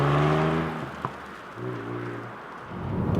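Ford Puma ST engine pulling harder from around 100 km/h on the road, a rising steady drone heard from inside the cabin over road and wind noise, moderately loud, no voices.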